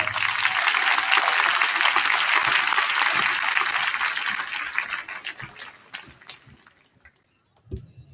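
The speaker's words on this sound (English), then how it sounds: "So give them another round of applause." A middle school winter band concert audience applauds after a piece, a loud full wash of clapping that thins out and dies away into a few scattered claps and near silence.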